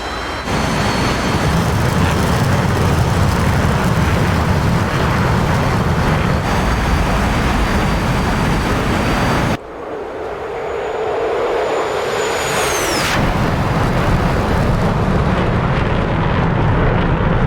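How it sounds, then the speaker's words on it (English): A video game F-35B jet taking off, its engine a loud, continuous roar with a high whine that shifts abruptly partway through before the full roar returns. "We're going to start with an extremely unrealistic style of takeoff by the F-35"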